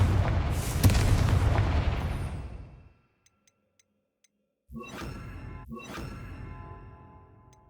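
The Confringo blasting spell in Hogwarts Legacy sets off a loud booming explosion that rumbles and fades over about three seconds. After a short silence, two sharper crackling magical bursts follow close together.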